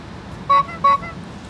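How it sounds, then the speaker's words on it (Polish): A Tesla's lock sound, set to a clown horn, gives two short honking toots in quick succession, loud and close against a low background hum. "Zrobimy sobie trąbka klauna."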